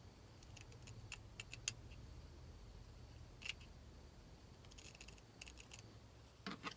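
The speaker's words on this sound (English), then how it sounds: "all I really need to do is just cut the little corners off there" Scissors snip the corners off fabric squares in a quiet room, a handful of faint, crisp cuts spaced irregularly, some in quick pairs.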